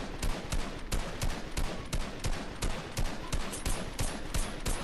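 Rapid automatic gunfire in an online shooter video game, sharp repeated bursts of shots in a steady rattling rhythm, loud and close with no talk over it.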